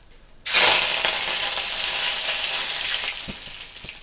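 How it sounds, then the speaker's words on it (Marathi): Curry leaves dropped into hot oil already holding cumin and mustard seeds for a tempering, bursting into a loud, close sizzle that starts abruptly after a quiet moment and hisses on steadily with a few faint stirring clicks. "थोडासा टाकते कढीपाला"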